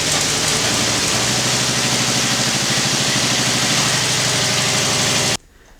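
Engine idling during break-in after a new carburetor was fitted, a loud, steady rumbling run with rapid even pulsing, close by, cutting off abruptly near the end.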